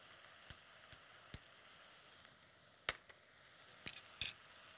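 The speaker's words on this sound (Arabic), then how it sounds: "ونشوح بقى" Minced meat sizzling with black pepper and garlic in a pan, a faint steady frying hiss broken by several sharp spits and crackles at irregular moments.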